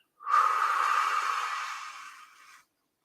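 A single long exhale through the nose during a calm meditation, breathy and close, fading out over about two seconds, alone in silence.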